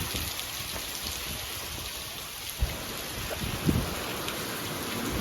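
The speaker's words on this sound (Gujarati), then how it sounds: "બહુ વરસાદ આવે છે" Steady heavy rain pours down with a dense, hissing wash, broken by a couple of brief louder thuds or splashes nearby.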